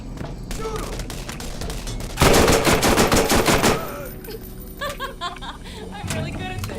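A rapid burst of SMG fire in Borderlands crackles for about a second and a half. Quieter game effects and a brief voice-like sound follow.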